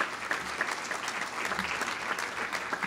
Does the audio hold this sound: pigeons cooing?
no